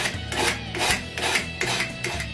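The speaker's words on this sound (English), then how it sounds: "I refine and remove marks with a card scraper." A card scraper refining the surface of a wooden spoon, producing quick, rhythmic rasping strokes, about six in a row, close and fairly loud with nothing else in the background.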